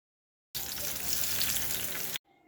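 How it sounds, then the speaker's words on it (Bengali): Pointed gourd pieces frying in oil on low-medium heat, a dense even sizzle that starts abruptly, holds steady and close for under two seconds, then cuts off. "এখন পটলগুলোকে লো টু মিডিয়াম হিটে রেখে ফ্রাই করে নিচ্ছি"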